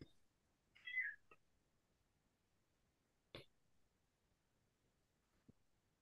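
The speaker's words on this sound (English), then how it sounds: "Is that a cat meow? It was. It's the cat's meow." A cat gives a single short, quiet meow close by near the start, followed by a few faint clicks and soft knocks in an otherwise quiet room.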